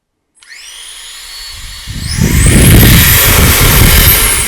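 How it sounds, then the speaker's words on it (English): A Tomzio 200,000 RPM electric air duster with its nozzle removed whines up from silence into a loud, steady rushing blast of air that holds to the end, with no talking. "Even without the nozzle on there, that thing still pushes quite a bit of air."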